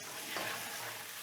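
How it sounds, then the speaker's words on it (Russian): Pickled cucumbers fry in a pan for beef stroganoff, giving a soft, steady sizzle with a brief stirring scrape, quiet and alone. "То есть мало кто жарит соленые огурцы."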